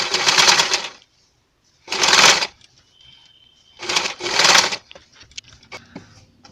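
A sewing machine stitching bias tape through lining and main cloth on a frock, running in three short loud bursts with quiet pauses and small handling clicks between them.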